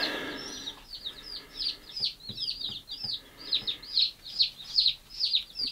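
Day-old chicks of mixed breeds, including Welsumers, Wyandotte, Rhode Island Red and Easter Eggers, peep in a box, giving a steady run of high, rhythmic chirps that grow louder and more regular toward the end, with no talk.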